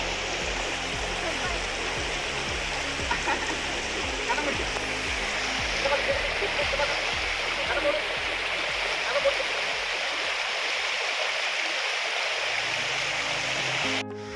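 Stream water at the foot of a hill near a temple rushes steadily and loudly for the whole stretch, a dense continuous flow with no break in it.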